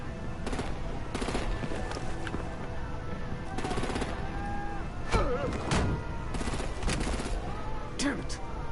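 Gunfire and artillery in a Batman action game, rapid machine-gun bursts and scattered shots crackling over constant battle noise, with voices talking during the firing.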